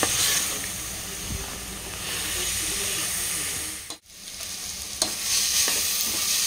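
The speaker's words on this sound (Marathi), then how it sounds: "मसाला हा जो आहे हा छान तेल सुटेस्तोवर आपल्याला परतवून घ्यायचा आहे मस्तपैकी" A spice masala fries in oil while being cooked down for prawn rice, with a continuous loud sizzle and hiss and occasional stirring scrapes. There is a brief drop near the middle, and a few faint voices sit in the background.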